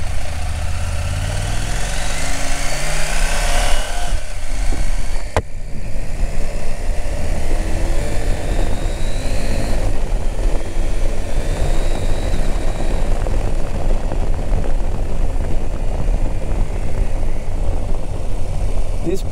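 A Husqvarna Norden 901 adventure motorcycle ridden off-road, a loud steady engine drone mixed with heavy wind buffeting, continuous throughout.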